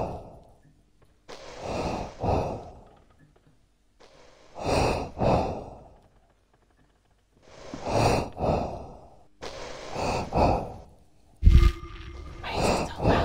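Heavy, loud breathing in the horror game The Stalked, slow paired inhale-exhale sighs coming in four separate bursts with silent gaps, followed by a sharp thud and a brief tonal game sound.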